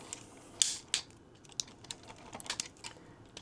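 A metal tab on an electrical outlet receptacle being jiggled back and forth with needle nose pliers, a quiet run of small sharp clicks and metallic ticks at an uneven pace, close up with no talking.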